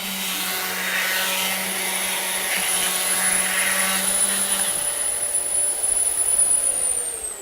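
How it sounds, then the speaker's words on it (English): A Festool compact sander with a long-life dust extraction bag runs with a steady whining motor hum close by, then winds down near the end. "now I can work with a small compact sander, but I can still have excellent dust extraction with the long life bag."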